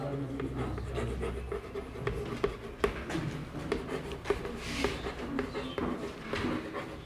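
Chalk or marker writing words on a board during a Hindi-to-English translation lesson, a steady run of scratchy strokes and taps close by with faint room noise.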